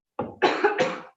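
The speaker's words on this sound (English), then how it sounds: "Sorry, that's not a COVID cough." One adult coughs close to the microphone during an online talk: a short, harsh hack followed by a longer double cough, with silence on either side.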